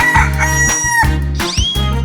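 Chicken crowing in a 3D animal slide video game, a couple of rising, strained calls layered over a steady, thumping game music loop.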